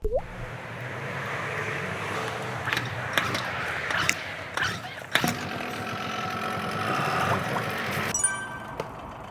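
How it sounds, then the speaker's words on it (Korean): An outboard boat motor cranks over and settles into a steady low idle while its lower unit sits in a water-filled flushing bag, with brief clunks and knocks over a continuous engine rumble. "시동 한번 걸어볼게요."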